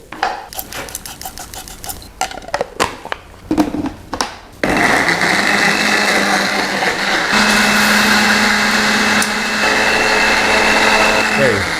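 A blender crushes tomatoes with shrimp paste and a little oil for Balinese spicy chicken, starting after a few seconds of choppy kitchen noise and then whirring loudly and steadily to the end.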